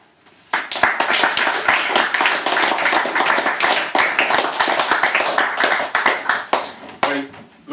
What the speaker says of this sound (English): please give her more applause